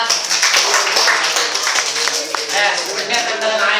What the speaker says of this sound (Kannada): ಒಂದೇ ತಂಡಕ್ಕೆ ಜೋರಾಗಿ ಚಪ್ಪಾಳೆ ನೋಡೋಣ